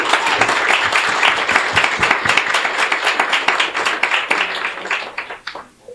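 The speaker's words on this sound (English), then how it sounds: "a big applause for Olena Halushka" Loud, close applause from an audience at a live podcast event for Olena Halushka, with crisp individual claps in a dense burst that tapers off and dies away over the last second.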